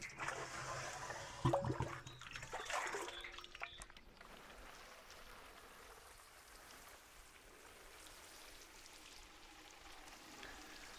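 Water from a 10-litre watering can splashes onto moist, mulched garden soil, a gushing pour for the first few seconds that fades to a faint, steady trickle.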